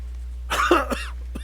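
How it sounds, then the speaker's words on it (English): A character in the Octopath Traveler video game gives a short, close cough that sounds like a throat-clearing hack, heard alone over a faint steady background hum. "Cough, cough."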